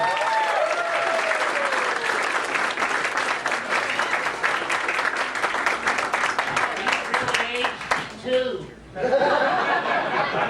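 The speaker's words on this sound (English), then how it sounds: "let's bring up Merriweather Pleasure with a big round of applause" Loud, sustained applause from a large audience with some laughter and cheering mixed in, dipping briefly near the end before swelling again.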